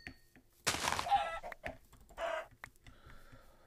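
A chicken in a survival video game lets out a loud, scratchy squawk, then shorter clucks and a second flurry, close and alone against a quiet background.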